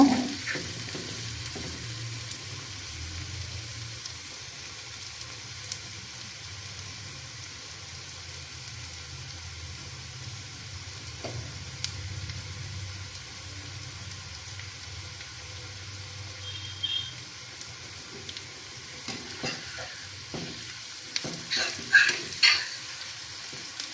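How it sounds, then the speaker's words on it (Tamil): Tomato chutney mixture stirred in a pan, with a soft continuous sizzle and low scraping under it and a few sharper clinks of the spoon near the end. Quiet and close, with no voices. "நல்லா மிக்ஸ் பண்ணி விடுங்க"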